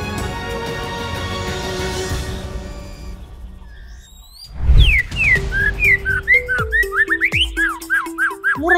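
A white-rumped shama sings loud, clear, whistled phrases after a stretch of other tonal sound, a run of rapid rising and falling notes delivered close and alone.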